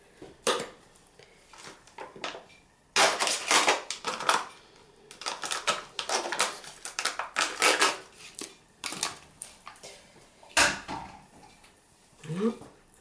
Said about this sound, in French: Après, on l'écrase à la fourchette.